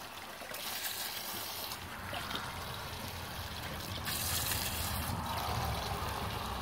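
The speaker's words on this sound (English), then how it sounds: "let's just fill this bucket real quick" Water from a garden hose with strong pressure pouring into a bucket, a steady hissing, splashing rush that holds constant throughout and grows slightly fuller toward the end.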